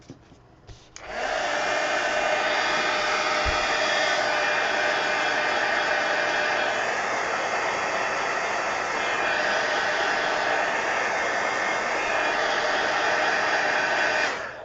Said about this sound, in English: let me just hit it with the heat gun.